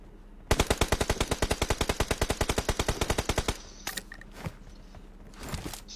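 Rapid automatic fire in a shooting video game: a fast, loud, evenly spaced burst of roughly thirty shots for about three seconds, followed by a few isolated clicks and thumps.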